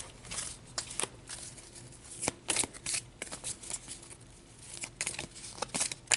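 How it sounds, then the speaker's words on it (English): Large tarot cards being shuffled by hand, giving bursts of crisp papery riffling and slapping that come in uneven clusters with short pauses between them, close and fairly quiet. "These are just so hard to shuffle because they're so big."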